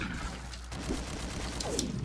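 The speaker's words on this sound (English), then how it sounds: "Okay, who's shooting me? Who's trying to shoot me?" Rapid gunfire in the shooter game SMOD Outbreak, a quick rattle of shots at moderate distance heard alone, fairly soft.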